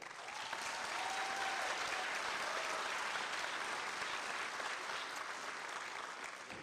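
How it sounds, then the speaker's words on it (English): Steady applause rises from the audience at a high school graduation ceremony, fairly quiet and distant, a continuous wash of hand claps with no pauses. "Let's give them a hand clap."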